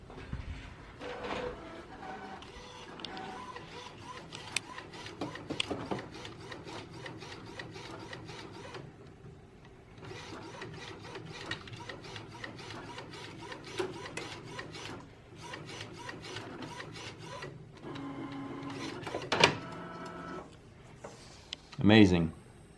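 DTF printer running a nozzle check pattern, its print head carriage shuttling back and forth in a steady repeating mechanical whir and ticking, with a person talking intermittently over it.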